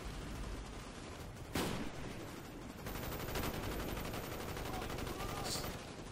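Gunfire in the Call of Duty Black Ops video game, with a sharp loud crack followed by a dense, continuous burst of shots that stays steady to the end, with a voice talking now and then.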